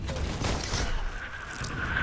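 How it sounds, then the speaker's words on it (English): Artillery fire in the Entrenched video game during a World Cup final match between Colombia and a Philippine-Vietnamese team, a dense continuous rumble of barrages and booms, loud and unbroken across the short stretch. "They have set artillery. Oh, that artillery got many Colombians."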